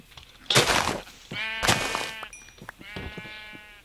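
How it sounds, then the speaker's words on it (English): Sheep in the Minecraft video game bleat several times in a row, each bleat loud, close and wavering, with short pauses between calls. "I found a lot of sheep"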